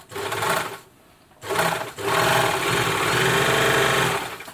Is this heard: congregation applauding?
no